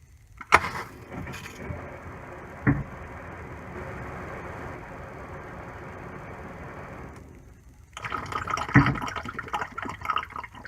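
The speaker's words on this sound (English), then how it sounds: "I'm going to go outside and turn the water on," Water running into an RV after being turned on outside, a steady broadband rush lasting several seconds with a few sharp knocks at the start, then a louder, busier splashing burst near the end.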